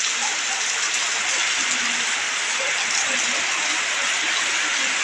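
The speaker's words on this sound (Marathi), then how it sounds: "सध्या कोकणामध्ये म्हणजे पाऊस आहे ना सारखा थांबतो येतोय जातो येतोय जातो" Steady rain falls in the Konkan region during an on-and-off monsoon spell, a continuous even hiss that stays at the same level throughout, with no voices.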